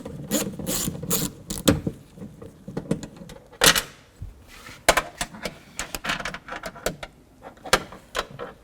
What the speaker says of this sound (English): Take a 10mm socket, take this bolt out, take this nut off, and then there's another bolt at the bottom.